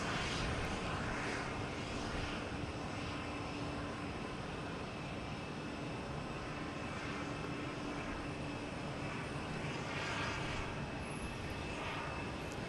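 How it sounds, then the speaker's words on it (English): A United Airlines Boeing 737 MAX 9 lands at Boston Logan, its engine roar broad and steady throughout, loud and fairly close with a faint high whine on top and no talk. "Next coming in is United Airlines flight 315, 737 MAX 9."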